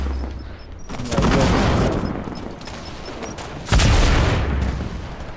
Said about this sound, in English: I exploded some people